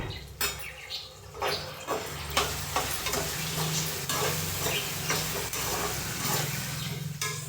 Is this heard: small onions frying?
yes